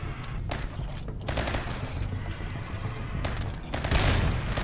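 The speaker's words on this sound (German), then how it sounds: "Da unten schießt auch noch irgendwas." Gunfire from a RimWorld battle crackles in dense overlapping bursts, with a heavier thump near the end, steady and fairly loud throughout.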